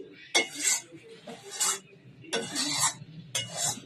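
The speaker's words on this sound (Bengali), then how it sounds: "তো এই যে তরকারিটা আমার হয়ে গেছে আমি নাড়িয়ে নিলাম" A spoon stirs vegetable curry in a metal pan in four distinct bursts of scraping and clattering, each about half a second long with short pauses between, close and fairly loud, with no talking.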